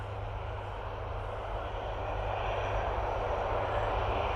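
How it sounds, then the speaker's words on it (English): A Hercules transport aircraft taxis at RAF Mildenhall. Its engines make a continuous broad, droning rumble at a distance, growing slightly louder partway through, with no speech over it. "Now sometimes these Hercules, what it does, taxis down, goes literally right the way round the back"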